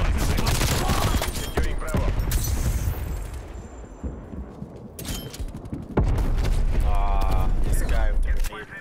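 Loud bursts of automatic gunfire and heavy impacts in the shooter game Call of Duty Cold War, with a lull midway before the firing resumes strongly, and voices speaking over the battle.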